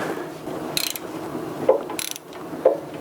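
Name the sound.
ratchet loosening 10 mm bolts on a 6.2L diesel engine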